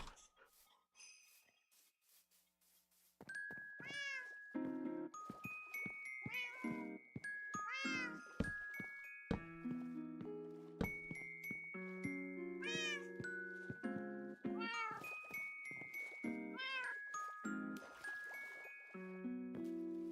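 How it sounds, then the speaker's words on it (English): Cat in Minecraft meows repeatedly after a quiet start, a string of clear, close rising and falling meows with some drawn-out caterwauling, coming in quick irregular succession over a faint tinkling background. "But why is there a cat in the water?"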